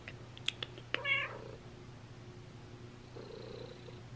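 A cat purrs close to the mic while kneading, a low steady rumble under a few brief clicks and a short meow-like call, with no talking.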